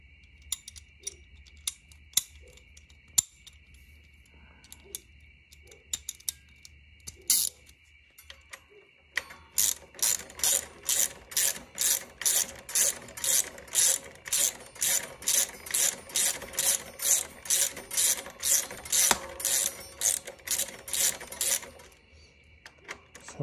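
A wrench with an adapter ratchets on a Talaria StingR electric motorbike's brake rotor, first with scattered clicks, then a long, regular series of sharp, close ratcheting clicks in steady rhythm.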